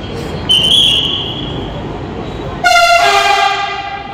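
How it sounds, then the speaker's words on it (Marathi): A Pune Metro train sounds its horn twice, a near, loud tonal blast followed by a longer, stronger one, with no talk over it. "हॉर्न केवढा"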